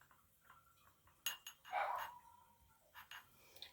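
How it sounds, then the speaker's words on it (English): A dog barks a few times from a distance, one longer yelping bark standing out, with light clinking of dishes or tools nearby and no talking. "my dogs are going off out there"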